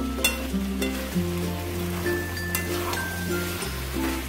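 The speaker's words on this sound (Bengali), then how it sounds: "আমি আস্তে আস্তে করে একে কিন্তু কষিয়ে নেব" Chicken korma for a white shahi korma sautéing slowly in a pan, a steady close sizzle with low stirring scrapes and a continuous low hum beneath, no voices.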